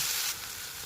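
Chopped onion and garlic sizzle in hot oil for a tempering, a brief steady hiss that starts loud and settles slightly softer, close up with no voices.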